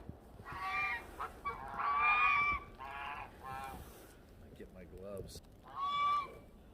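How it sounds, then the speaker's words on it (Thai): Geese honk in repeated bursts during heavy snowfall outside a home, the calls fairly close and loud, separated by short pauses, with a faint voice in the gaps. "เราจะได้ยินนะคะเสียงห่าน"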